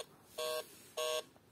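A mobile phone rings with two short, loud electronic buzzing tones separated by a brief pause, close and alone in a quiet room.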